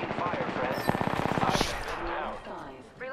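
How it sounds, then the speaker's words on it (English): Apex Legends gunfire rattles in a rapid automatic burst of close, punchy shots for about a second, amid a busy mix of game effects, with talk in the background. "I am taking fire, friends."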